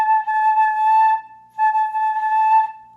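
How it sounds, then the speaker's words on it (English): A flute plays two long notes on the same pitch with a thin, airy, wavering tone that dips in loudness mid-note, close and solo with no voices. "What we don't want is for our air to sound thin,"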